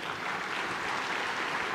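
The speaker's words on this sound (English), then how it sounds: "we need to give him a round of applause" Audience applause at the State of the Port of Los Angeles event, a steady, even wash of clapping from a large crowd, heard alone for under two seconds.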